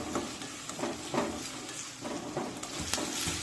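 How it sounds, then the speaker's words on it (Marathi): Finely chopped onion and curry leaves sizzle in a pan for a ridge gourd curry, a steady frying hiss broken by periodic scraping stirs of a spatula at close range. "हा कांदा छान तांबूस रंगावर भाजून घेऊया"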